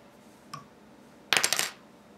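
Small metal scissors snip the thread end after tying off a wet fly at a fly-tying bench, a faint click followed by a brief, close burst of bright metallic snipping, with no talking.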